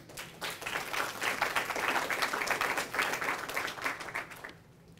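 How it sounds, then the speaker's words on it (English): Audience at a police scholarship luncheon in Houston gives a sustained round of applause, dense steady clapping close by that fades out near the end with no talking. "I believe that is very deserving of a round of applause"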